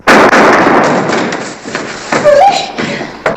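A single sharp gunshot cracks loud and close at the start, followed by a decaying echo and some faint rustling; an Old West revolver shot in a cowboy drama setting.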